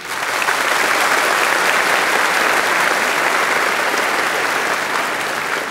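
A studio audience on the German TV show Wetten, dass..? applauds in a steady, dense wash of clapping that holds for several seconds without letting up.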